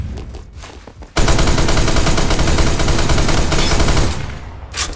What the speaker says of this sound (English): Watch this. This is an M60 weapon.